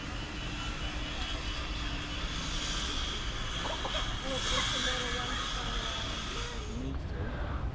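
A fixed-wing airplane flies over near Gold Coast airport, a steady, broad engine drone that stays level throughout beside a wildlife sanctuary, moderately distant, with faint bird calls.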